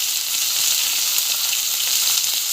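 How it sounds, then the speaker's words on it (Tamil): Raw mango pieces for sambar fry in a pan, giving a loud, dense, continuous hiss of sizzling oil with no pauses and only faint stirring. No voices are heard. "நல்லா வதங்க. மாங்காய் வந்து போட்டுக்கலாம்."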